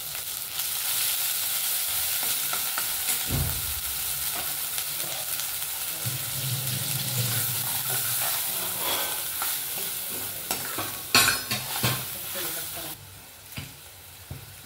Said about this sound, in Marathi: थोडंसं तेल टाकले, जिरे मोहरीची फोडणी दिलेली आहे आपण.